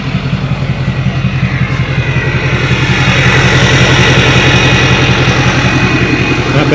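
A truck diesel engine idles close and loud with a steady rhythmic chug, its throaty rumble growing slightly fuller and louder partway through, with no voices.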